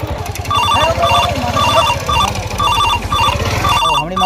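A telephone rings in repeated short bursts, an electronic trilling bell sounding loud and close, over a low rhythmic background hum.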